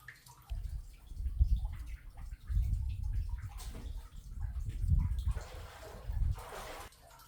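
Boots slosh and splash through cold water in a dark, flooded crawl space, with slow, uneven wading steps and soft gurgles that come close and quiet.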